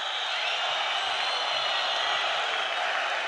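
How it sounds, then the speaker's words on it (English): A boxing arena crowd at a world championship semi-final in Baku roars in a continuous, loud wall of voices, apparently counting down the final seconds together without clear breaks. "You can hear the crowd counting down the seconds"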